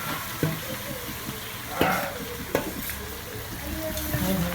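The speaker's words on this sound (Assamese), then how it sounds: "এতিয়া কেৰাহীত ঢালি দিলে দিয়ক" Marinated meat hits a hot kadai for biryani, giving a steady, moderately loud sizzle with a few sharp clatters and stirring knocks along the way.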